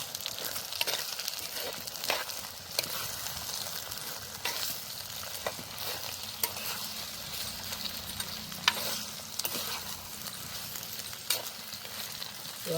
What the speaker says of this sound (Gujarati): લીલી ચોળી, લીલા વટાણા, લીલી તુવેર અને આપણે હલાવી લઈશું પહેલાં.